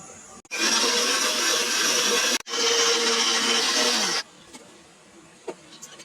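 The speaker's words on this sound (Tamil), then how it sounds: "இந்த தேங்காய் ஜாரில் சேர்த்துக்கிட்டு நல்லா நைஸாக அரைச்சி எடுத்துக்கிட்டு வரலாம்." A mixer grinder whirs loudly while grinding chilies, tomatoes and coconut in its jar, running in two bursts split by a brief pause, then stopping, with a few small knocks after.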